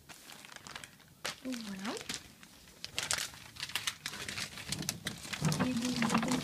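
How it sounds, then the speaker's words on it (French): Items are unwrapped from a crinkly bag, with loud close crinkling and rustling bursts throughout as someone speaks briefly. "je vais vous le déballer, dans un sac comme ça"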